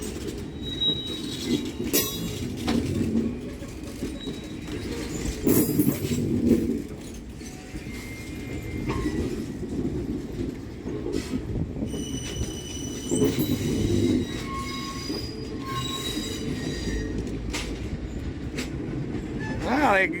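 A Norfolk Southern freight train rolls past nearby with a locomotive trailing at the end, its railcar wheels rumbling steadily and squealing in high-pitched bursts for the full length, with a faint voice now and then.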